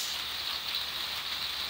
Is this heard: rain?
yes